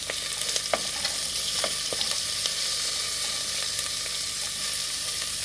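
Corn and yellow capsicum fry in a pan for corn egg soup, a constant bright sizzle with a few scattered clicks of stirring, close by and without talk.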